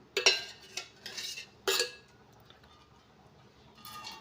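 A kadai set on a stove gives a few sharp metallic clinks and clanks, as when a spoon taps the pan while oil is added for bottle gourd chutney, close and isolated with quiet gaps between.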